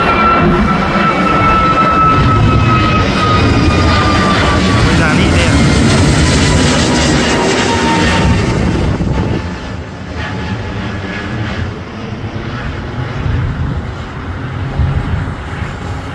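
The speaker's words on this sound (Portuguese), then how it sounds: "o A321 Neo de Campinas lá para Fortaleza" An Airbus A321neo jet takes off from Viracopos airport in Campinas, a loud sustained engine roar with a falling whine that eases as the aircraft departs. Voices are heard over it.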